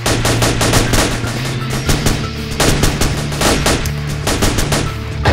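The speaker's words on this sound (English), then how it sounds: "we're taking fire from across the airfield, guys" In a military game, rapid gunfire crackles from across an airfield: dense, continuous bursts of automatic shots, loud and sustained throughout, with no speech over them.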